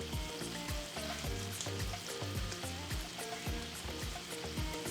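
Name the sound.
onions and mushrooms sautéing in pan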